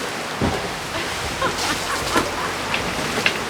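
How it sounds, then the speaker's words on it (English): Steady, dense hiss of heavy rain pouring down, with occasional louder splashes and drips standing out against the constant wash. "It is pouring!"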